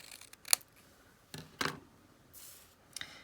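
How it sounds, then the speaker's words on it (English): Scissors cut a paper card greeting by hand in a few short, crisp snips spaced apart, close and fairly quiet with no talking. "I can go ahead and just basically cut it out by hand using my scissors"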